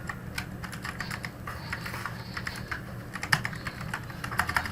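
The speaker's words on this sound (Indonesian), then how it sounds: "teman-teman mengetik sebuah teks pada tabel" Typing text into a table in Microsoft Word on a computer keyboard: a steady, close run of light, quick key clicks in uneven bursts over a low background hum, with no voices.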